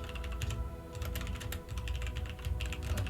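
A computer keyboard clatters with rapid, steady typing, a continuous stream of close, crisp key clicks and thumps filling the whole stretch, with no talk over it.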